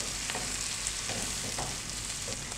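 Large-cut chopped tomatoes frying with onions in a pan, a dense, even sizzle filling the whole clip, with faint stirring scrapes now and then and no talking.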